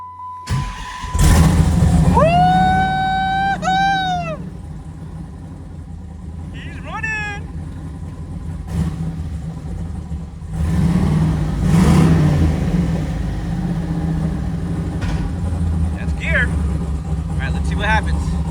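A vehicle engine cranks and starts during a clutch test, a whining starter giving way to a loud, steady idle with occasional revs, while people talk over it nearby.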